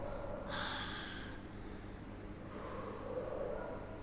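A child breathes heavily: a strong snorting breath in near the start, then a softer exhale a couple of seconds later, close and clear with no talking.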